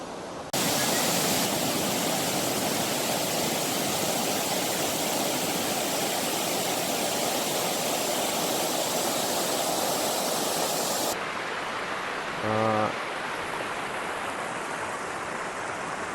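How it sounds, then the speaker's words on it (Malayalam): Water pouring over a small check dam on the Irattayar river in Idukki, a steady loud rushing roar that eases off slightly toward the end. "ഇതാണ് കേട്ടിരുന്നു ഒച്ച, വെള്ളം വന്ന് ചാടുന്നത്"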